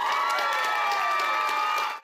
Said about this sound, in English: An eruption of cheers and applause